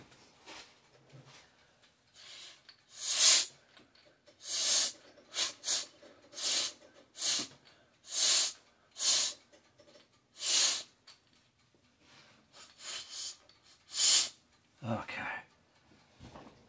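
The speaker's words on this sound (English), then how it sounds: "Maybe I'll try blowing out it to see if it spins." Breath blown in repeated short puffs through a small 3D printed siren rotor, giving breathy hissing bursts roughly once a second, close and fairly loud, with no clear siren tone.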